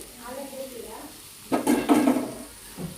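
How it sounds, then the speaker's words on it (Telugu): Curry frying in a pan, cooked until the raw smell goes off, with a burst of sizzling and stirring clatter in the middle, softer pan noises before and after. "ఇది కొంచెం పచ్చివాసన పోయేంత వరకు వేగనిద్దామండి"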